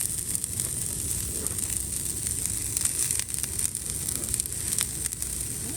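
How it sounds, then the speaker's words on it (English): Onions sizzle steadily in hot oil in a pan for breakfast burritos, a continuous crackling hiss with occasional louder pops, close by and without speech. "Those favorite sounds of sizzling."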